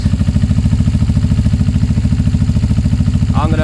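Suzuki GS 500 motorcycle engine idles while warming up, fitted with a slip-on exhaust, a loud, close, steady low-pitched throb with even rapid pulses, plus a brief clank at the end.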